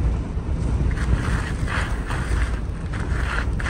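Steady wind buffets and rushes across the microphone outdoors in Colorado Springs, with broadband roaring gusts swelling and fading throughout and no voices.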